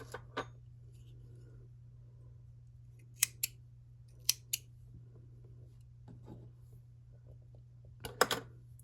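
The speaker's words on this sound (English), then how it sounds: "then we can snip these ends" Scissors snip the loose ends of crocheted scrap yarn on a mesh sweater, a few sharp, close clicks spaced apart over a quiet room hum, with a quick double snip near the end.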